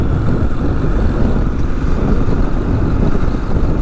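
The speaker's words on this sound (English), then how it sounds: "It's pretty windy today." Steady, loud wind rushes and buffets against the microphone while riding a 2022 Kawasaki KLR 650 dual-sport motorcycle, a constant low roar with the engine blended in, lasting the whole stretch with no talking.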